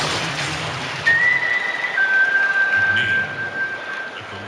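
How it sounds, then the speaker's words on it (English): A referee's whistle in the NBA 2K21 basketball game gives one sustained shrill blast, followed by a second longer tweet over crowd noise in the arena. "And he gets the whistle."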